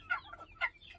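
Local hens on a small farm cluck close by, two short bursts of clucking about half a second apart against a quiet background.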